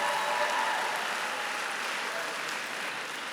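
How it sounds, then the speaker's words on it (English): Conference audience clapping, a soft, fairly distant, continuous patter of applause that fades gradually over a few seconds. "I guess we can clap for it."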